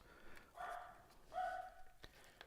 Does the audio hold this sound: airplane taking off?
no